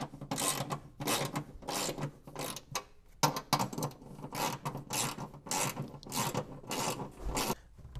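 A ratcheting socket wrench tightens upper bolts with lock washers on an auxiliary fuse block bracket, clicking in repeated close, steady bursts separated by short pauses.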